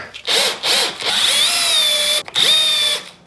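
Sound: power drill screwing a wooden batten in place

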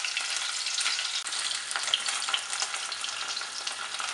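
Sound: rohu fish frying in a pan

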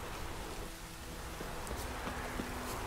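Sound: rain in the video game The Witcher 3: Wild Hunt

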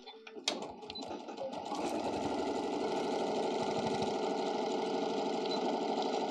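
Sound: sewing machine stitching a seam on a bunny ear basket

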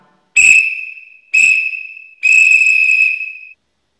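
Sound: whistle sounding Morse code letter U, dot dot dash

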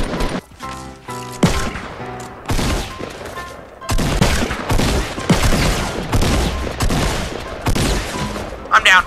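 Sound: gunfire in the video game Fortnite

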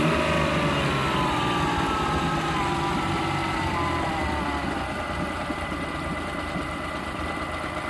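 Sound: small boat outboard motor running and idling

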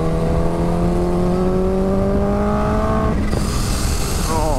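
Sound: Kawasaki Ninja H2 motorcycle accelerating through gears

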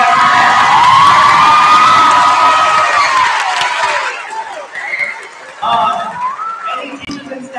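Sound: audience applause and cheering at school choir concert

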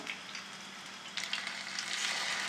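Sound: meat frying in a pan

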